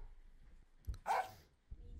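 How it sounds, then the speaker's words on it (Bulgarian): A dog barks in the Minecraft survival game, with a few short, sharp barks in quick succession near the middle against a quiet background. "Кучето! Виж го какво е сладко!"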